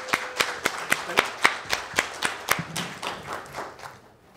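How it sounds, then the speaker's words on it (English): Clapping from an audience welcoming a speaker at an education session, a few close, crisp claps in a steady rhythm that soften and trail off toward the end. "Give Dale a round of applause, please."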